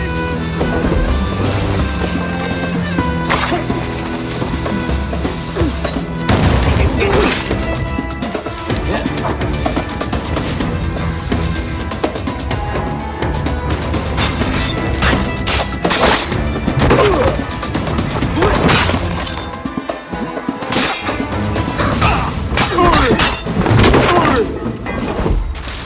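In the Assassin's Creed 4 Aveline DLC, grenades go off as several heavy, booming crashes, spaced irregularly amid dense game noise, splashing and shouting voices.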